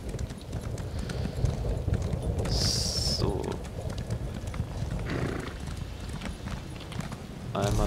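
In The Elder Scrolls Online, a horse gallops with a quick, steady clip-clop of hooves that continues throughout, joined by brief game sound effects while someone talks over it.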